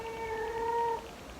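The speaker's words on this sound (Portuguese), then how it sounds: "Não é gatinho?" A single cat gives one clear, drawn-out meow lasting about a second, close and fairly loud, then falls quiet.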